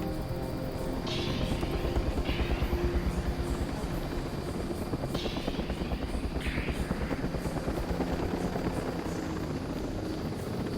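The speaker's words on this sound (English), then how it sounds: "Actually gonna try and take my helicopter down here." A helicopter's rotor thumps steadily and loudly throughout, with a rhythmic chop over a low engine drone and occasional electronic game effects.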